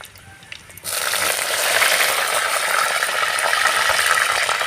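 Spices and curry leaves hit hot oil for a chicken curry, setting off a sudden loud, continuous sizzle and crackle after a quieter opening moment, heard close up with no voices.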